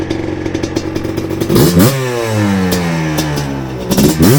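A ported two-stroke Yamaha Blaster engine idles with a rapid, buzzy putter, then revs hard in a rising, crackling wail that falls away before a final blip, close and loud with no talking.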